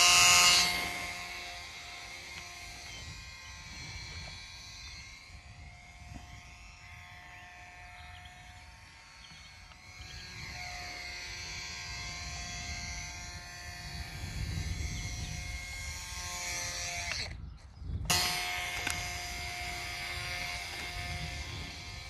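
A lightweight FT Mini Scout RC model plane flies downwind, its small electric motor buzzing steadily at a distance, swelling and fading slightly as it passes, with a brief dropout near the end and no talking.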